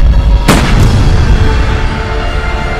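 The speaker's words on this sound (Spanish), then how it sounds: "Y el sicario terminó disparándote a ti." A single sharp gunshot rings out near the start of a tense drama scene, a loud broadband crack whose echo trails off over a low, continuous rumble.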